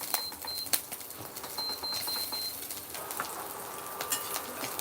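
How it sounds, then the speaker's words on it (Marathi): Green chillies frying in a little oil in a pan, a soft steady sizzle with occasional sharp pops and crackles, fairly faint and with no talking. "मी थोडंसं तेल घालणार आहेत आणि मिरची छान भाजून घ्यायची"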